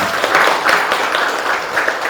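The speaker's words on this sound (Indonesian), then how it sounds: "untuk tanda sepakatnya kita tepuk tangan dulu semuanya." Students in a high school classroom clap together in a loud, close, fairly rhythmic burst of hand claps that continues steadily, with no talking over it.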